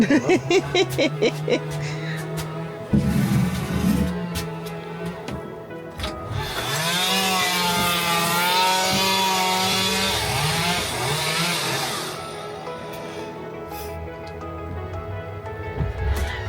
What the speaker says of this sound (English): We're having some trees cut down. So if you hear a lot of chainsaws going